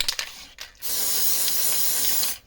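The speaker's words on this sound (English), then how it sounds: "Teflon spray." A sustained spray of Teflon lubricant hisses for over a second after a couple of short bursts, close and fairly loud, while coating a woodturning chuck.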